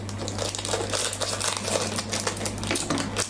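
Plastic packaging around two miniature dollhouse sledges is cut open with close, crinkly snips and crackles that run steadily for a few seconds over a low background hum.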